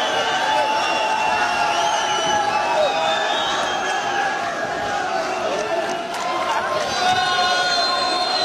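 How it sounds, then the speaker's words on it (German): A crowd cheers and applauds for two fighters after an MMA bout, a continuous roar of clapping and shouts heard beneath a voice talking over it. "Ein großer Applaus für beide Kämpfer"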